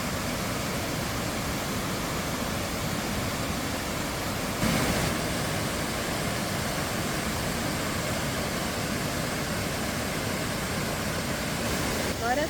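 A waterfall and river pool in Chiapas, Mexico, pours in a steady, dense rush of white noise that holds an even level throughout, with one brief louder surge midway.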